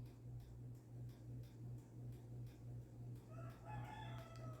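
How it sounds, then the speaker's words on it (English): A rooster crows far off and faintly near the end, over a steady low hum of indoor background noise. "oh, that was a rooster."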